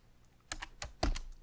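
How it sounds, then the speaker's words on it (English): A handful of crisp computer keyboard keystrokes, about five, tap out R code in an irregular rhythm, close and quiet, with no talking. "we're going to type in here our nice, pretty code"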